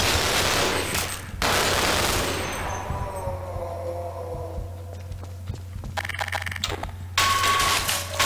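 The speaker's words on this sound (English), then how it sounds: "let's use this M16 that's almost out of ammo" M16 rifle fire in the shooter Half-Life, loud close bursts at the start and end with a quieter stretch of clanks and footsteps between, no voices.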